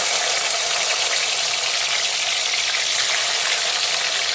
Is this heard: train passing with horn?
no